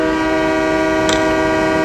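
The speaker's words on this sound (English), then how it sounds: "Train approaching. Please remain behind yellow line." At a station served by freight, commuter and Amtrak trains, an approaching train sounds a loud, steady, sustained horn, with a brief higher clatter partway through.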